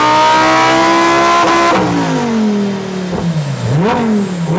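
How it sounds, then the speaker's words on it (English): Lamborghini Huracan STO V10 engine revving hard on a dyno in a closed cell, loud and close, pitch climbing then dropping and swooping through several throttle blips. "then we're good to make some V10 noise"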